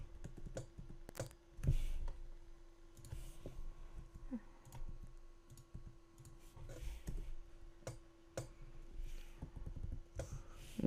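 Keys clacking on a computer keyboard in irregular bursts of quick taps, moderately close, with a steady low hum underneath and no talk over the typing.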